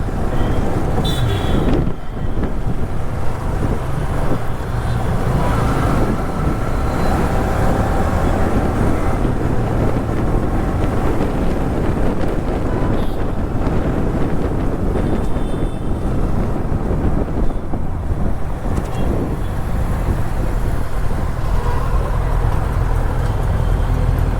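Riding a Kawasaki Ninja Z900 motorcycle, steady heavy wind roar buffeting the microphone throughout with a low engine drone underneath, loud and unbroken.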